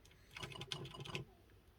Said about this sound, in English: This is a mechanical keyboard.